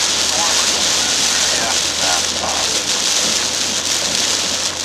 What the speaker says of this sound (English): I don't know if these rain bands are part of the storm or just part of you know, rainy season here in South Florida